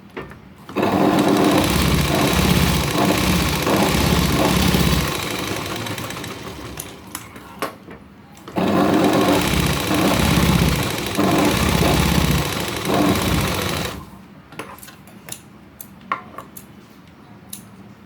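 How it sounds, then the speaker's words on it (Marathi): Sewing machine stitching along a saree's border edge for a blouse, running in two long steady bursts of mechanical whirring and rattling, each several seconds long, separated by brief pauses and a few light clicks. "साडीच्या किनारी शिलाई मारायची दोन्ही साईडच्या परत वरून"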